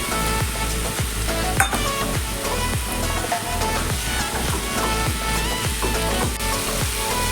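Chopped tomato hits hot oil in a pan for a fish kalia curry, a loud, dense, continuous sizzle with rapid crackling and occasional stirring clatter, close up and without talk.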